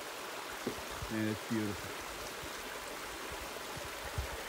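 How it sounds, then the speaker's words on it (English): A small brook flows out of a beaver bog on a ski slope, a steady broad rushing wash under a man's brief spoken remarks. "nice little brook coming out of the beaver bog"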